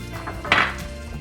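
A single short scrape of a utensil against a pot of breadfruit curry, a brief metallic stir amid quiet kitchen background.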